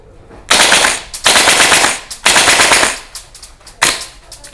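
A gas blowback airsoft rifle fires in burst mode, giving three loud, close rapid bursts followed by a couple of shorter sharp shots, each with a hissing snap of gas and bolt.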